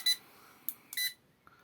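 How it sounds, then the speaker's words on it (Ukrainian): A voltage tester being switched on gives a few short, sharp high beeps in quick succession, close and clear in an otherwise quiet room. "Включаємо, він раз пікає і тоді вже працює."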